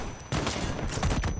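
Video game gunfire, a rapid dense burst of loud shots rattling off in quick succession over about a second.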